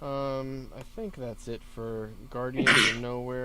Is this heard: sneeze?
yes